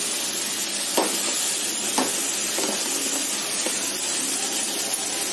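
A spoon stirs fish curry in a pan over a soft, steady sizzle, with scraping strokes about once a second that are close and fairly loud, and no one speaks.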